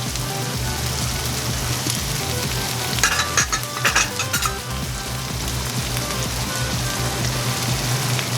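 Marinara sauce being added to a bolognese in a hot pan, giving a loud, steady sizzle and frying hiss throughout with a few sharper crackles and stirring scrapes near the middle, with no voices.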